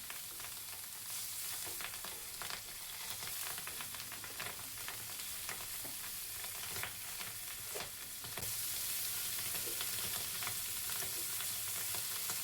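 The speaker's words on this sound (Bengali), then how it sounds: "এক পিঠ ভাজা হয়ে গেলে আমি মাছটাকে সুন্দর করে উল্টিয়ে দিব" Turmeric-and-chili-coated pabda fish fry on their second side in hot oil in a wok, giving a steady close sizzle with dense crackling spatters that swells louder toward the end.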